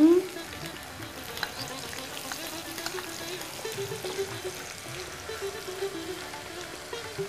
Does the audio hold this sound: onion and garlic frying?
yes